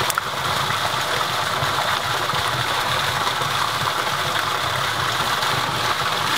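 A small ram pump micro hydro turbine spun by hand gives a steady, dense mechanical whir with a faint ratcheting texture, loud and continuous throughout, with no talk.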